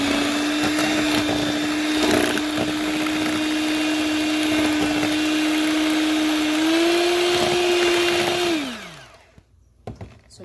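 Electric mixer beating a sour cream, icing sugar, vanilla and lemon crepe filling, a loud steady motor whine that rises slightly in pitch near the end before switching off, followed by near silence.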